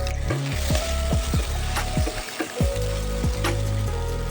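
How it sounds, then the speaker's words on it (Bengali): Soybean chunks fry on low heat with a constant close sizzle, punctuated by a few sharp spatula scrapes and stirs against the pan. "আঁচটাকে কমিয়ে ভাজবেন সোয়াবিনটা ভালোভাবে ভাজা হবে"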